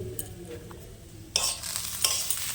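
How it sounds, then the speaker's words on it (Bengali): Rice and lentils being stirred into spiced masala in a pan for khichuri, a near scraping stir with sizzling that grows louder and busier partway through, with no talk. "আবার একটু নেড়ে চেড়ে নেব"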